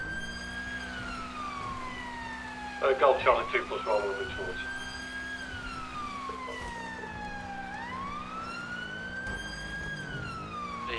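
Emergency vehicle sirens wail and rise and fall steadily in the GTA V police roleplay game, sounding loud and continuous throughout while a voice briefly speaks over a radio.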